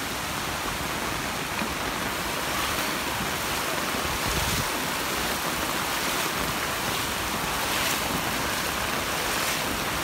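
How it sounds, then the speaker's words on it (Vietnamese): A stream of rainwater rushes along beside a flooded roadway near gate 11, a constant, even wash of flowing water that holds steady throughout. "Bên đây là suối nha."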